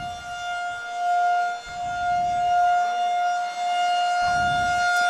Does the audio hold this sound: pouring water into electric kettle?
no